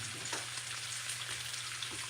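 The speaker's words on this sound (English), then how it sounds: "we're gonna do one more batch of frying" Food sizzles steadily in a frying pan during a batch of home frying, a continuous crackling hiss with small pops and a low background hum, no voices.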